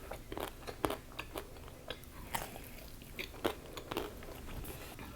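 Close-miked biting and chewing of gyoza dumplings, with soft crunches and wet mastication repeating irregularly at a quiet level, without talk.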